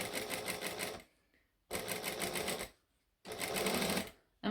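A sewing machine bastes a zipper in place, running in three close, steady bursts of rapid stitching separated by short pauses, with no talking.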